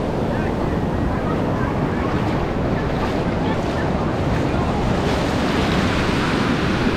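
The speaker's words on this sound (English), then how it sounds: "That's a big wave." Big ocean waves break on a beach in Durban, South Africa, making a continuous, loud roar of surf mixed with wind buffeting the microphone. No voices are heard.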